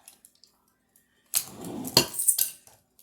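A metal spoon scoops heaping spoonfuls of mayonnaise from a jar for chicken salad, giving a short burst of close clinks and soft scraping with faint utensil taps before and after.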